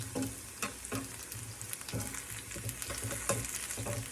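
Ground beef fries in a pan with a soft continuous sizzle, broken by occasional scraping stirs and small pops, fairly quiet and close.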